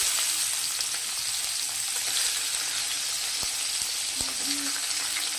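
Onion hits hot oil already seasoned with whole cumin and garam masala for a fish-head dal, sizzling continuously up close, with a couple of sharp utensil knocks against the pan.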